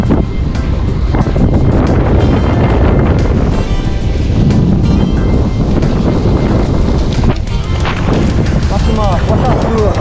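Strong wind buffeting a small fishing boat at sea, a loud continuous roar of gusts hitting the microphone with water washing beneath, a voice faintly audible under the wind near the end.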